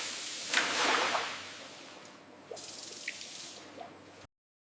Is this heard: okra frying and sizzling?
no